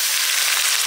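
Ginger and garlic fry with potatoes and onion in hot oil, giving a dense, steady sizzle that stays close and loud through a short moment without speech.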